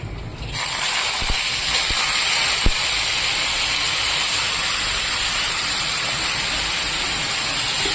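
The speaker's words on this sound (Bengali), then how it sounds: "এবার আমি মাংসটাকে ভেজে দিচ্ছি" Marinated meat hitting a hot pan and frying with a loud, steady hiss and sizzle that starts abruptly and holds close and continuous, with a few small pops.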